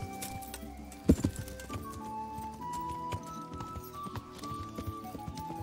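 In the Kingdom Come: Deliverance video game, a horse's hooves clop near a village forge, one sharp close strike standing out early, followed by a brief whinny and scattered lighter hoofbeats over a soft ambient bed, with no talk.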